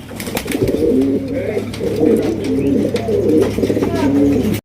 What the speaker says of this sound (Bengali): আপনার হোয়াইট কালারের আপনার জ্যাকোবিন কবুতর নিতে পারবেন